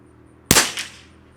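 One sharp, close gunshot from a Lithgow LA101 rimfire rifle firing Eley Tenex ammunition, with a quick crack and a short decaying echo.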